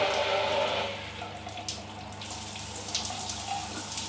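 Rainfall shower head running in a new hotel bathroom shower at a Pattaya beach resort, a steady broad rush of falling water that softens slightly after the first second, continuous and close.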